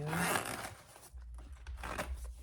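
Someone slides open the zipper on a handmade fabric waist pack, a faint, quick rasping run near the mic followed by soft handling rustles in a quiet room.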